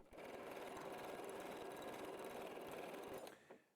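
A W6 N 9500C sewing machine runs steadily, stitching a 9mm-wide decorative pattern with a fast, even mechanical whir for a little over three seconds before stopping.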